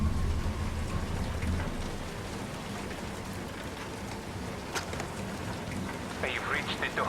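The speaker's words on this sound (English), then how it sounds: "The rain never seems to let up on this island" Steady rain falls on an island in the video game Singularity, a constant hiss of drops with a low rumble early on, and a voice breaks in briefly near the end.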